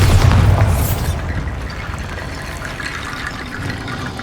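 A Bombarda explosion spell goes off in Hogwarts Legacy: a single loud, heavy blast with deep low rumble at the start, decaying into a sustained debris-like wash and crackle for several seconds, no talking.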